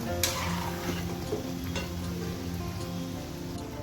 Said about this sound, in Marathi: चांगले असे सोनेरी रंगाचे होईपर्यंत तळून घ्यायचे